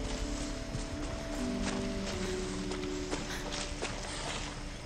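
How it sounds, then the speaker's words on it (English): Steady clip-clop of horse hooves at a walking pace in the video game Far Cry 6, over a constant background hum, moderately near and fairly even throughout. "There's a horse nearby."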